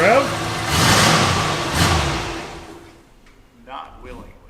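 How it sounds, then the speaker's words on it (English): A barn-find Mercury Cougar, sitting for 40 years and with an EGR leak, has its engine pushed to rev and rises loud and rough before dropping away, close up, with a brief squeal near the end. "Will it rev?"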